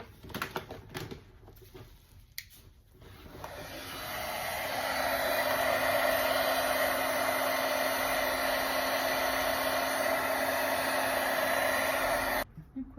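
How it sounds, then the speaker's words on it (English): A hair dryer pushes acrylic paint across a three-color beach pour. Its steady, fairly loud whoosh starts softly, swells after a few seconds, holds for about eight seconds, then cuts off. "I think we're going to use a hairdryer to move the paint around a little bit."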